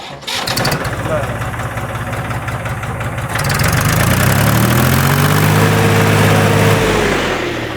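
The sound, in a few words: Farmtrac tractor engine starting and idling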